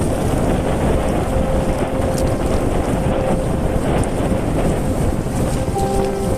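Steady, loud wind roaring across the microphone over a harvested rice field in Pola, Oriental Mindoro, Philippines, with constant buffeting and no pauses throughout.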